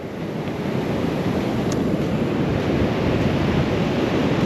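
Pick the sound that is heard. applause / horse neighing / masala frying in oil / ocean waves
ocean waves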